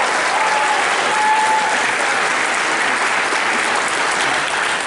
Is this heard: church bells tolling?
no